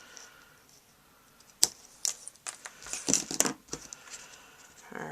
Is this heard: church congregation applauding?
no